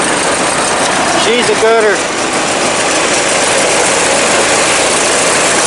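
A 20 hp Briggs opposed-twin engine on a 2001 Murray garden tractor runs at a steady idle, a loud continuous rumble throughout, with a short spoken comment partway through.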